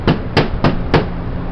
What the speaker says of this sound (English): I'm going to switch to my tender's hammer, and I'm going to use the